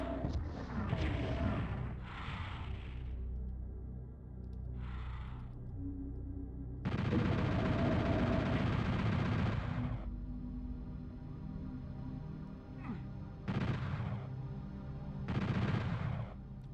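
Gunfire in the shooter game Final Doom: several loud, harsh bursts spaced a few seconds apart, with a long sustained blast in the middle and quieter ambient game sound between shots.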